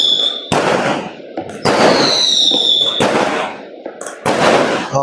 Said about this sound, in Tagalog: Ayan po, nagka-fireworks pa, ha?